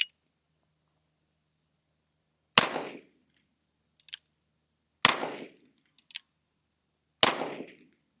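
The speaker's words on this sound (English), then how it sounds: "I'm about 6-ish yards away and I fired 3 shots" Three sharp gunshots from an Uberti Tombstone Buntline revolver fired at about six yards, each a loud crack with a short decaying tail, spaced roughly two and a half seconds apart, with faint metallic clicks of the action between shots.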